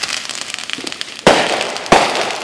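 A backyard firework fountain sprays with a continuous hissing crackle, punctuated by two loud sharp bursts, close by and alone without talk.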